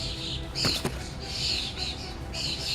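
Bird chirps in bursts, high and fairly faint, with a couple of sharp knocks partway through against a soft outdoor background.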